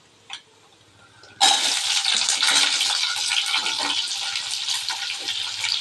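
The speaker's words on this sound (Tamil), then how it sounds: "அடுத்தது வெங்காயத்தை போட்டுக்கலாங்க" Onions drop into hot oil in a pan while turkey berry chutney is made, and a loud sizzle erupts suddenly after a quiet start. It then settles into a sustained, close frying hiss with no voices.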